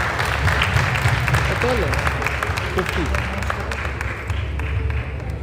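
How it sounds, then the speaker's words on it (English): Audience applause at a meet-and-greet event in a banquet hall, a steady wash of clapping lasting several seconds while a voice speaks over it. "a huge round of applause for her"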